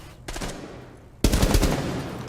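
Gunfire in the video game Rainbow Six Siege: two sharp bursts of rapid shots, a softer one followed by a louder, denser burst about a second later.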